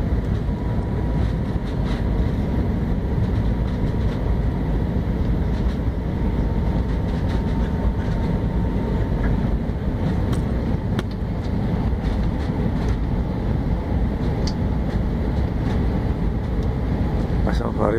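Inside the cabin of a LAN Airbus airliner landing at Neuquén, a steady loud roar of engines and airflow fills the whole stretch, unbroken and close.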